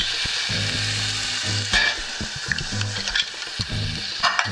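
Brazilian rice ingredients fry in a pan with a loud, steady close sizzle, under a low rumbling hum and scattered scraping stirs.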